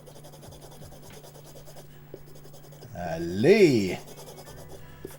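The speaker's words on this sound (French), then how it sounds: "On va d'abord nettoyer les pins avec une gomme à effacer." An eraser rubs back and forth over the pins of a Phantasy Star IV game cartridge, soft close scratchy strokes that swell into a louder burst, with a brief spoken exclamation.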